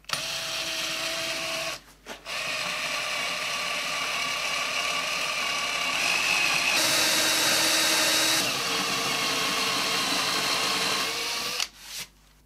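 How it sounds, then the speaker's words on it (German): Power drill boring into wood at a 45 degree angle with a fitted bit, likely while building a key rack pinboard; a steady close whirring motor runs for most of the clip, with short pauses near the start and the end. "Wir bohren minimal rein und dann gehen wir auf 45 Grad."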